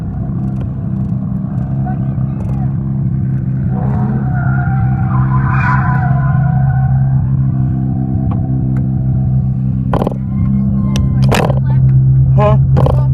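Car sliding around a skid pad at a car gathering, engine droning steadily with tire squeal and a rising whine midway, loud and close, with people talking and exclaiming over it.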